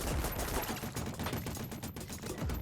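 Rapid video game gunfire in Voidigo, a dense stream of quick popping shots fired in fast bursts, steady and fairly close.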